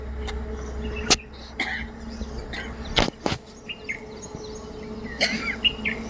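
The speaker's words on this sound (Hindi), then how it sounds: "और पक्षियों के गीत सुनो" Scattered bird chirps and calls sound faintly over a steady outdoor hum, with a few sharper clicks breaking in.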